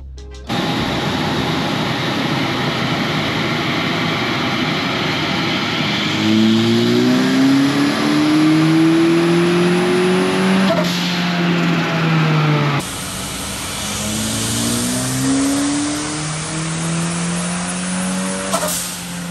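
A turbocharged Toyota 2RZ pickup engine, boost raised to about 14 psi, winds up loudly on a dynamometer, its revs climbing through two long sustained pulls that ring with rising harmonic tones and roaring exhaust.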